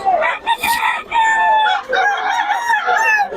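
A banded gamecock crows loudly and close by in several long, strained calls, with brief clucks and rustles between them.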